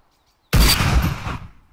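A single sniper rifle gunshot in the DayZ video game: silence, then one sudden loud blast with a booming tail that rolls off over about a second.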